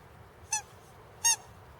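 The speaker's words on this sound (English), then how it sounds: "A squeaky duck." A squeaky duck dog toy squeaks twice, about three-quarters of a second apart, each one a short, bright, nasal squeal over a quiet room.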